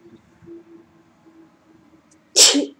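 A single sharp, loud sneeze bursts out near the end after a quiet stretch of faint background murmur.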